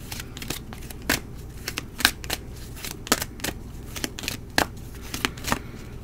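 Tarot cards being shuffled and drawn make a quick series of crisp riffles and soft slaps, irregular and close, fairly quiet, with no talking.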